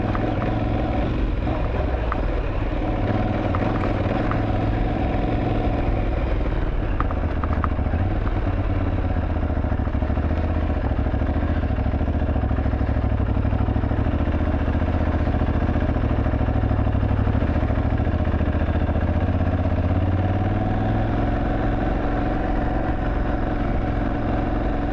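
An Aprilia Tuareg 660 motorcycle engine drones steadily and loudly throughout, with rumbling and rattling as the bike rides along, no voices heard.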